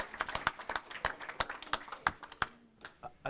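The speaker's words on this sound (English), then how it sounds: "Round of applause." Sparse, faint applause from a small audience at a local crypto panel, with a handful of distinct claps that taper off toward the end.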